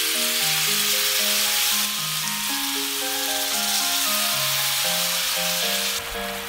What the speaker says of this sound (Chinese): 把培根卷整齐摆放在锅中，小火煎一分钟，然后把料汁淋在上面